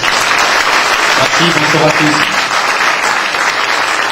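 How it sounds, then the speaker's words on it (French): An audience at a business association gathering applauds loudly and continuously while someone speaks briefly over the clapping. "que je vous demande d'applaudir très fort."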